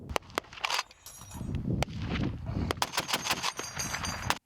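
Heavy Browning machine gun bursts break into steady infantry rifle fire during a defensive combat drill, sharp cracks and rattling volleys repeating close and loud throughout with short gaps between shots.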